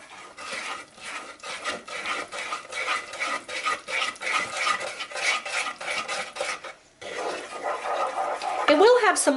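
Wet and dry play-doh ingredients, flour included, are stirred together in a pot, making a loud, rhythmic scraping and rasping that runs steadily with a brief pause near the end.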